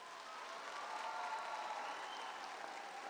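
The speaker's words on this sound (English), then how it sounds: "I would like all the seniors to give a warm round of applause to all of our parents and guardians" Graduating high school seniors give a steady, moderately distant round of applause for their parents and guardians at a graduation ceremony, the dense clapping holding evenly for about three seconds.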